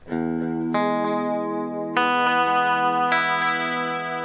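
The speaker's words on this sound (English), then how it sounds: "So this is just a modulated digital delay." Sustained electric guitar chords ring out through a shimmering, modulated digital delay effect from a TC Electronic Flashback 2 x4 pedal, each new chord blooming over the fading repeats.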